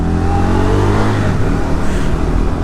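A motorcycle, apparently a 390, accelerates hard to overtake a car, its engine loud and close with a rising, rough drone and wind rush.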